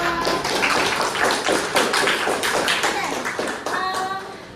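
A classroom group applauds together, a dense, lively patter of many hands clapping at once that fades off near the end.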